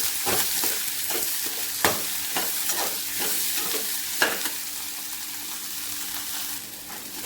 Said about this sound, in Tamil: சிம்மில் போட்டு நல்லா வதக்கிக்கலாம்